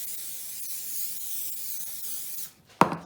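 A steady, soft hiss of oil sprayed onto a paper-thin filo pastry sheet, continuing for a couple of seconds before stopping, followed by a brief louder knock.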